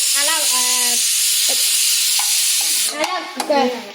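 Ladies finger (okra) sizzles steadily in a pan over a low flame, a constant bright hiss with a few faint clinks and a short voiced sound near the end.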